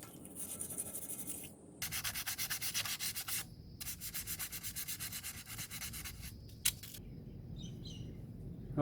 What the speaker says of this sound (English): once all that's sanded back